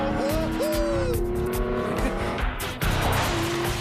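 A racing car roars close by at high speed, engine revving and pitch sweeping up and down, with tires squealing briefly in the middle.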